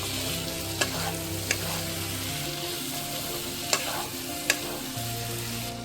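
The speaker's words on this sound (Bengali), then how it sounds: "চিকেন দিয়ে ভালো করে কষিয়ে নিতে হবে।" Chicken stir-fried with masala in a kadai, a steady sizzle under repeated scraping strokes of a spatula against the pan, with a few sharper clinks, close and continuous.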